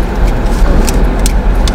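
A car drives aboard the ferry KMP Sumber Berkat 1, heard from inside as a steady, close low engine rumble with road noise and a few sharp clanks over the ramp.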